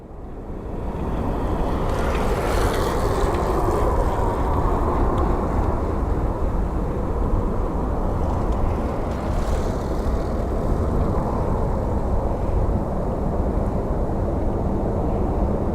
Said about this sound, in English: let's take a look at this plane departing for Ontario